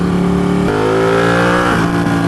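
A Ducati 1299 Panigale S motorcycle engine revs on the throttle, a loud, close, steady roar that climbs sharply in pitch and then eases back slightly.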